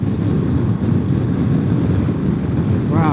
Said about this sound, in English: Wow, it is super gusty right here.